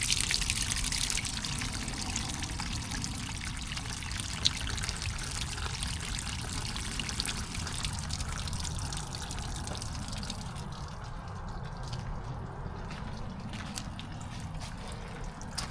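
Water from the 6- to 8-gallon tank of a Casita travel trailer pours out in a steady, continuous gushing stream, close by and unbroken for the whole stretch.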